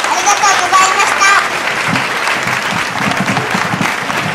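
Audience applause at a festival stage performance at Saidaiji Kannon-in temple, Okayama, a dense burst of many hands clapping together that carries on steadily throughout, with a voice briefly heard at the start.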